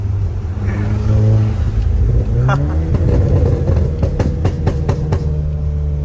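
A modified Skoda Superb revs with a rough engine note, then rapid exhaust pops crackle out one after another, loud and close, while voices talk over it.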